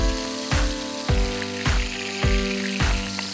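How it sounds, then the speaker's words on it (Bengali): Prawns frying in hot oil in a home kitchen, a steady loud sizzle punctuated by regular rhythmic thumps about every half second, with an underlying hum and no talking. "তেলটা গরম হয়ে গিয়েছে, একে একে চিংড়ি মাছগুলোকে ভেজে নিব"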